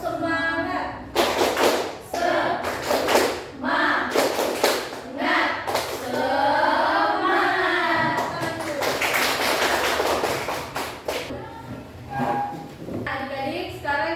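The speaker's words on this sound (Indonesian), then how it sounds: "Sekarang kita mulai sama-sama untuk tepuk semangat." A classroom of students performs the 'tepuk semangat' spirit clap routine in Gorontalo, Indonesia, a series of rhythmic group claps and thumps in short bursts, with a teacher's voice and children's voices mixed between the clapping.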